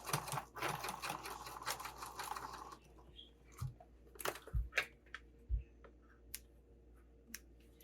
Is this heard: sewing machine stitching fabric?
yes